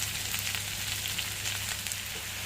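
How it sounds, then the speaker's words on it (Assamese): Chopped garland chrysanthemum greens hit frying onions in hot oil, giving a loud, steady, continuous sizzle with no pauses and no voices. "পিঁয়াজখিনি প্ৰায় ভাজ খাইছে এতিয়া মই ইয়াত কাটি থোৱা শাকখিনি দি দিছোঁ"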